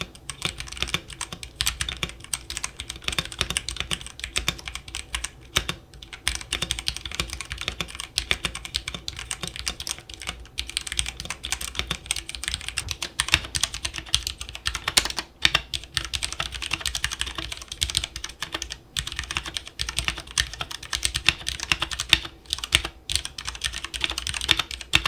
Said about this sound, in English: The sound test of the keyboard speaks for itself.